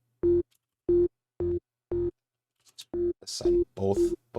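A Serum synth stab with a phaser filter plays four short, evenly spaced, tonal bursts in a row. Then a person starts speaking.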